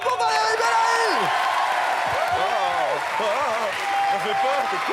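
A TV game show studio audience applauds in a loud, sustained wash of clapping, while excited voices and shouts carry over it the whole time.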